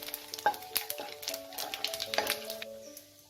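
Cumin seeds added to hot oil with cardamom pods for a dalia khichuri crackle and sizzle in a pan, with soft pops and stirring clicks, fairly quiet and close, no talking.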